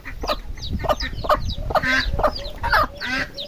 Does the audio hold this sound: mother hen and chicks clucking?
yes